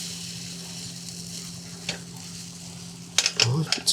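Pancake batter sizzles in a pan over a Tirros camping gas stove, a soft continuous hiss close by, broken near the end by a few sharp clicks and clinks of a utensil.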